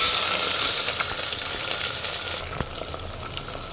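Sliced onions hiss and sizzle in hot oil in a pan with fried whole spices such as cloves, cardamom and cumin, a steady loud frying crackle with a few sharp clicks of stirring.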